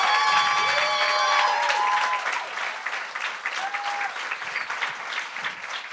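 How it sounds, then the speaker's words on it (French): Audience applause for a first-time performer at Le Gong Show, a live stage comedy event: sustained clapping from a crowd, louder at first and then easing to a steady, thinner patter. "On peut-tu faire une bonne main d'applaudissement, s'il vous plaît?"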